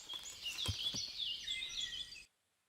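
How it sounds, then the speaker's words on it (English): Birds sing in the Kingdom Come Deliverance video game, a faint cluster of high chirps and trills running for about two seconds over a soft background, then cutting to silence, with no voices. "Those bird sounds."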